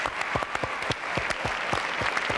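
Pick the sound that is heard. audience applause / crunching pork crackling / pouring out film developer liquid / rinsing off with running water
audience applause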